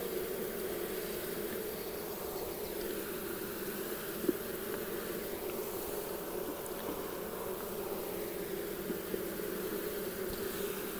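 A low, steady buzz of honey bees fills the air around an opened hive during frame rearranging, constant and moderately close with a few faint clicks; no one talks.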